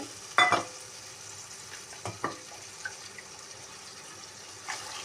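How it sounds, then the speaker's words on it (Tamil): Tamarind water is poured into onion paste for vatha kuzhambu, setting off a loud sizzling burst, then quieter bubbling and a few faint stirring scrapes in the pan. "புளித்தண்ணி இப்போ ஊற்றுறாங்க"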